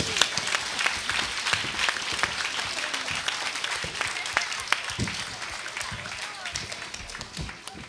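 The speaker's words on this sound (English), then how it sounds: "Give them a round of applause." A room full of people applauding children after a performance at a Berlin Wall event, dense and fairly loud clapping sustained throughout and gradually easing toward the end.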